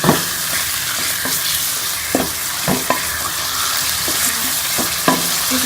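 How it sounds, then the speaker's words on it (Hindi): Chicken sizzles and fries with browned onions in a karahi for chicken jalfrezi, a steady close hiss broken by repeated clacks and scrapes of a spoon stirring the pan. "इसके अंदर हम चिकन को डाल के फ्राई कर लेंगे।"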